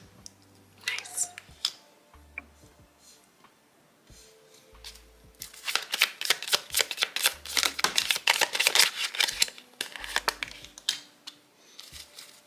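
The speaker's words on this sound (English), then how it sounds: "Let me just pull out the rest of the cards" Tarot cards are pulled out and handled on a table, with close papery slides, flicks and taps that start sparse and grow into a dense run of rapid shuffling snaps, between stretches of low hum.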